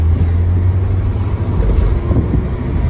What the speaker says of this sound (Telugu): మీకు ప్రతి గేర్లా టర్బో విజిల్ వినిపిస్తుంది.